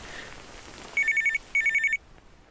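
An in-game telephone in the horror game Feed Me Billy rings twice in close succession, each trilling electronic burst about half a second long, clear and alone over a quiet background.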